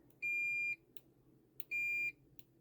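Two steady continuity beeps from a Holdpeak YF-770D multimeter, each about half a second long and separated by a short gap, with faint probe taps in between and no talking.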